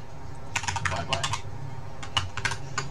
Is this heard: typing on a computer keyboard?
yes